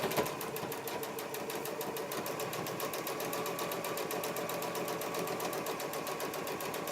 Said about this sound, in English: I'm going to back stitch just a little bit to make sure that it doesn't come undone